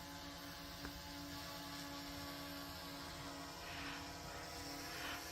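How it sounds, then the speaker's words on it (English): A small camera drone hovers overhead at a sand dune hill, giving a steady, continuous buzzing whine that stays fairly constant in level throughout, with wind-like noise mixed in. "So we stopped to try out the drone"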